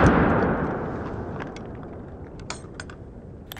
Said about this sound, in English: we have birdshot in here. Let's see how much recoil it has. I forgot to mention, this is a slam fire shotgun.